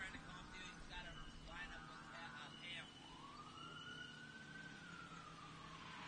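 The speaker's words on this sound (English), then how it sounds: "I hear some sirens in the woods." Sirens wail in the woods during an Ultra 4 off-road race, the Every Man Challenge at Visions 2023. A distant, faint rising and falling tone sweeps over a low background rumble.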